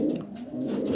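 A racing pigeon coos in a loft, a soft low burbling call heard close and alone over about a second.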